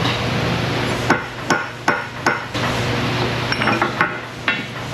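Sharp metal-on-metal hammer blows strike a chisel on the rear hub of a 2014 Mercedes SUV during a hub bearing job, about eight irregular whacks over a steady hum.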